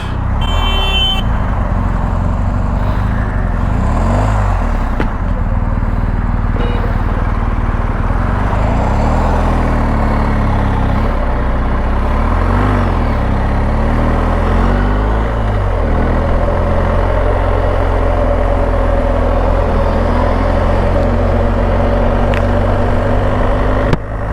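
A BMW R 1250 GSA motorcycle engine drones steadily and loud on a long road ride, with a horn toot near the start and shifting engine tones as it changes speed.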